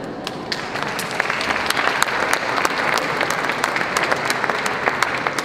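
An outdoor concert audience beneath the Portici del Grano in Parma applauds the student performers, brief, lively clapping with crisp individual claps standing out, loud and close.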